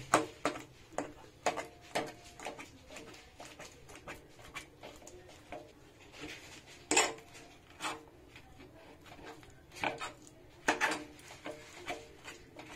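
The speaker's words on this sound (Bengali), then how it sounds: "বেগুন টমেটোর খোসা ছাড়ানো হয়ে গেছে, এগুলো এবার মাখিয়ে নেব।" Peeled roasted eggplant and tomato are mashed by hand for begun bharta, a soft, irregular run of quiet squelching taps and clicks against a bowl, heard close with no talking.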